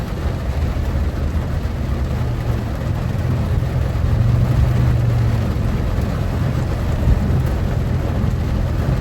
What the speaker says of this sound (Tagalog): Lakas ng ulan, naririnig niyo ba yung ulan?